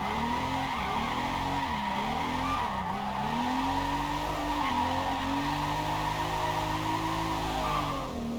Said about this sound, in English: drifting seems very solid in this game